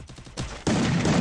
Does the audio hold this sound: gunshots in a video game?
yes